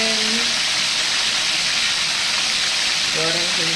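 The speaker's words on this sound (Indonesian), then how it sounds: "Kita goreng." Chicken wings frying in hot oil give a steady, loud sizzling hiss that fills the whole clip, with a voice briefly heard at the start and end.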